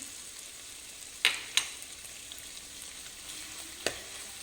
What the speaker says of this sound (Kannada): ಇದು ಸೋಯಾಬೀನ್ಸ್ ರಾತ್ರಿ ನೆನೆಸಾಕಿದ್ದೆ. ಇದನ್ನು ಹಾಕಿ ಚೆನ್ನಾಗಿ ಫ್ರೈ ಮಾಡೋಣ